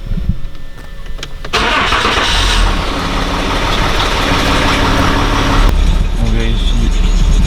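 A Citroën C6 engine cranks briefly, catches and settles into a steady, loud, close idle after its front brakes are serviced, with a click near the end and a voice talking faintly at times.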